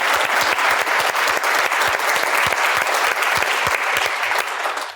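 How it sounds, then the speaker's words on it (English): An audience claps for General McKenzie at a talk, loud, even applause sustained throughout with distinct sharp claps standing out near the microphone. "a round of applause for General McKenzie."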